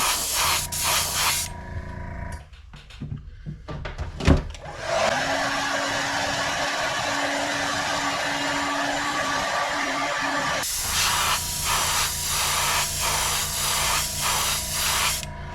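Spray paint hisses through a stencil onto a fishing lure bait, loud and close, with rapid short bursts at the start and end and one long continuous spray in the middle.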